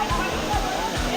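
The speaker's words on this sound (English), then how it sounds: "Not sure which waterfall this is" Steady waterfall in Uramba Bahía Málaga National Park, Colombia: a continuous broad rushing roar of falling water, loud and close, with no voices over it.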